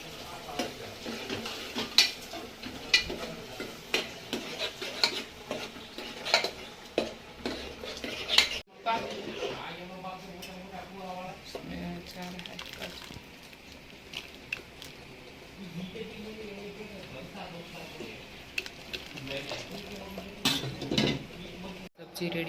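Onion paste being stirred in a cooking pot for a vegetable curry, with repeated scraping and clinks of a spoon against metal over a soft sizzle, and a voice speaking now and then.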